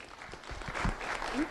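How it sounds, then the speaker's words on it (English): An audience claps for a speaker being introduced, a brief, close burst of applause from a small crowd. "Let's have a round of applause for Shannon Tackett."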